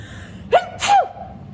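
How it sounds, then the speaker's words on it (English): A single sharp sneeze with a quick inhaled gasp before the burst, close to the mic, then silence. "I gotta sneeze."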